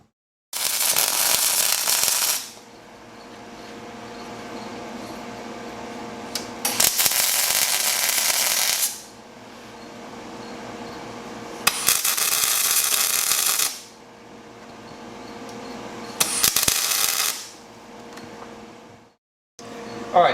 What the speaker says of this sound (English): But first we're actually going to tack it together, take it off, and then weld the inside.